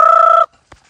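A single loud, sustained fowl call on a farm, a harsh tonal squawk lasting about half a second, close and clear, followed by a short faint knock.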